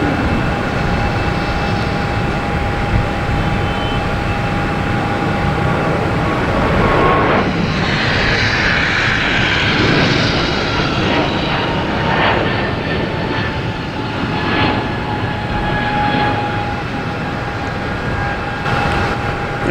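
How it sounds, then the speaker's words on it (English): A JetBlue Airbus A220 jet taking off at Boston Logan Airport, its engines a loud, steady roar with a constant whine that keeps a strong, even level throughout with no voices. "we have a JetBlue taking off to Syracuse. An A220"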